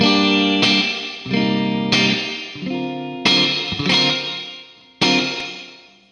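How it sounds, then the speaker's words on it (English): Guitar chords struck about every second and a half through a Boss RV-5 digital reverb pedal, each ringing out into a long, washy reverb tail that builds into a dense, loud wash as the reverb amount is turned up. "the reverb amount is getting greater"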